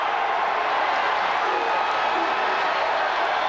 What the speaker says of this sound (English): Boy, listen to this crowd, Tim.